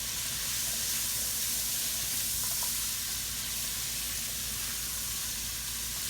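Beef tips and mushrooms fry in oil in a pan, giving a steady, dense sizzle and hiss that runs unbroken throughout.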